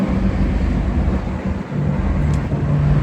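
Loud, steady low mechanical rumble and drone of a ship's generator and engine room machinery, continuous throughout with no breaks, filling the space up close.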